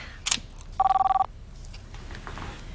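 A telephone rings indoors in a 1999 soap opera scene: a brief click, then one steady electronic ring burst lasting about half a second, followed by quiet room tone.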